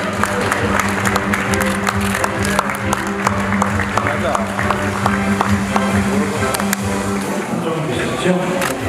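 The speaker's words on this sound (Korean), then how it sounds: "박수로 맞아주시죠" Audience applause greets actor Lee Min Ho as he comes on stage at a Sejong Institute ambassador ceremony. Dense, steady clapping continues loudly throughout, with sustained tones and crowd noise underneath.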